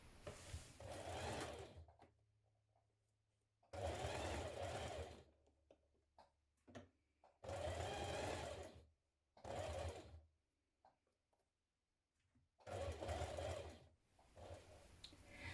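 A sewing machine stitches a 6mm seam on a teddy bear in four loud, whirring bursts of about two seconds each. Quiet handling clicks and rustles fill the gaps between runs, and no one speaks.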